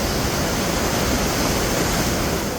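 Fast-flowing mountain stream on the trek to Hemkund Sahib, a loud, constant broadband rush of water close by, with no voices.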